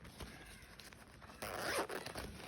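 A BTS pouch case is unzipped in a quiet room. A few faint handling rustles come first, then one longer, louder zipper pull close by.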